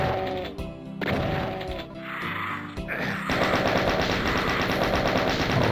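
Shotgun blasts and combat noise in the Doom video game ring out in several loud, sharp bursts with short gaps, then give way to a denser, continuous clatter of fire and action.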